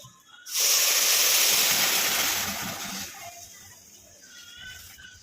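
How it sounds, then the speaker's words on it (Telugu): A sudden loud sizzling hiss as milk is poured into a hot pan for sheer khurma, holding strong for a couple of seconds before slowly settling into a softer bubbling. "మొత్తం పాలు పోసేసుకోవాలి"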